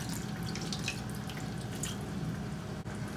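Sprite soda is poured into a pot of Filipino humba with pineapple juice and soy sauce, giving a steady, fizzy liquid trickle with faint bubbly crackles at moderate volume.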